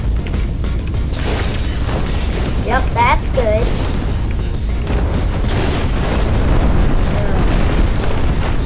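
A missile explodes in the Instruments of Destruction game, producing a loud, booming blast with mechanical clatter and crackling debris that rumbles on continuously, while a voice speaks over it.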